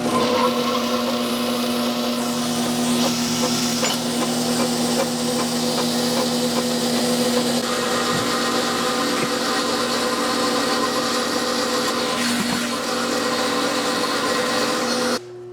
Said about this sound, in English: So we'll cut our tube first.